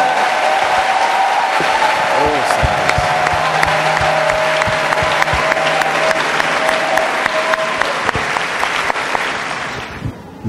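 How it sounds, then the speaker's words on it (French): A church congregation claps together in steady, loud applause at a French-English teaching weekend, the dense clapping filling the space for about eight seconds before tapering off. "Let's clap for Jesus."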